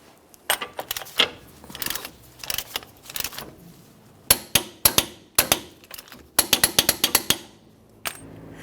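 A torque wrench tightens an axle nut on a 2012-2015 Honda Civic during a front wheel bearing job, giving sharp ratcheting clicks in uneven bursts that speed into a rapid run near the end.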